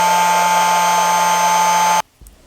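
Small electric nail dryer running with a loud, steady fan whine and hum close by, then abruptly switching off into near silence with faint handling sounds.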